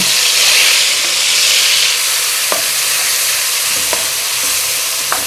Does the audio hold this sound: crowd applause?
no